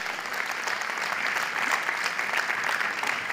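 A studio audience at a club-style show breaks into loud, even applause, a continuous wash of clapping filling the room without a pause.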